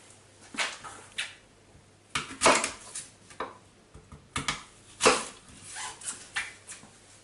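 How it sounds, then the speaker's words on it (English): Knife chops through apple on a cutting board in irregular bursts, crisp thuds with pauses between, close up, no talking. "But for now, I'm just going to get chopping."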